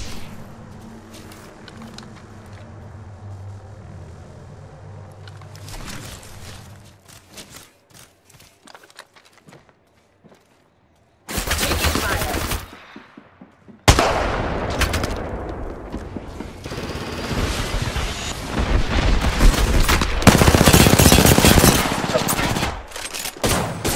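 Apex Legends gunfire in a solo match near the closing ring: quiet stretches give way to loud, dense bursts of automatic fire and sharp shots, with a heavy sustained barrage building toward the end.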